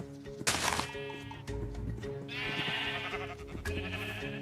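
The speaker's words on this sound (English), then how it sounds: "Hi sheep, how's it going?" Sheep in a video game bleating in a few drawn-out, wavering calls, near and clear with a steady background drone.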